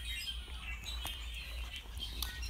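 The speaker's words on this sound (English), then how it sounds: "Birds are chirping and singing" Birds near Sacramento, California, give faint, scattered chirps and short squawks, a few brief calls rising over a low, steady rumble.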